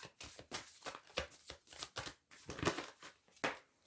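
Tarot cards are shuffled and drawn close up, making quick crisp riffling and snapping bursts in an irregular rhythm with short pauses between handfuls.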